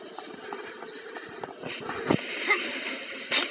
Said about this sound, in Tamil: ட்ரெயின் வர போகுது,